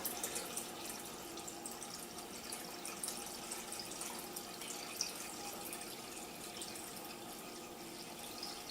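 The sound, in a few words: water filling an aquarium tank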